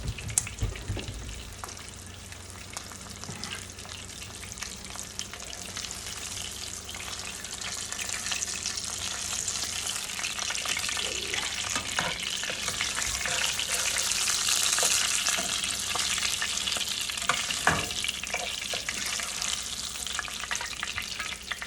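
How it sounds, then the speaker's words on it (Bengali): Fish fry in hot oil on a stove with a continuous bright sizzle and crackle, steady throughout with occasional spatters and soft clinks of cookware. "তেল চুলা যখন গরম হয়েছে তখন আমি এই মাছগুলো ছেড়ে দিয়েছি মাছগুলো অলমোস্ট ভাজা হয়ে যাচ্ছে"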